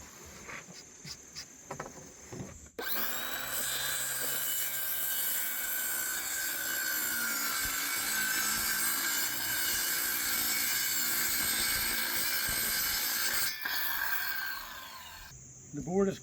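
A wooden board is cut with a long, continuous rasping saw stroke lasting about ten seconds, loud and close, framed by quieter handling noises at the start and end.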